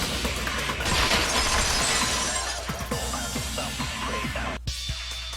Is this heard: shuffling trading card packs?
no